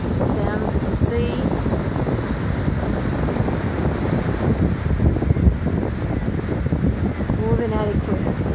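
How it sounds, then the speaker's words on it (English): Sea waves at a beach, a steady broad wash of surf and wind buffeting the microphone, continuous and fairly loud, with faint bird-like chirps here and there. "Sounds of the sea."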